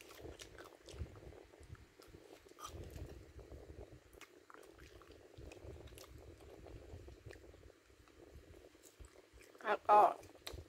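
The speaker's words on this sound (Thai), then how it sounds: "กำลังกินเลยค่ะ" Someone eats sticky rice with blanched vegetables, soft close chewing and mouth sounds running steadily at low level, with a louder clatter near the end.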